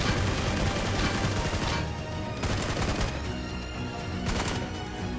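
Rapid gunfire crackles through a PUBG-style battle royale video game, dense bursts of shots filling the first seconds loudly, then repeating in shorter volleys with brief gaps.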